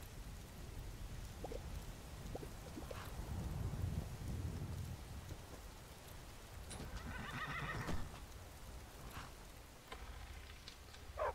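A horse whinnies and its hooves clop in Skyrim, heard against steady rain with low rumbling thunder, with a couple of louder neighs standing out over the constant downpour.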